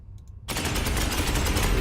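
Automatic gunfire from the Space Hulk video game bursts in suddenly after a short quiet moment and continues as a dense, loud, rapid stream of shots to the end, with no talk.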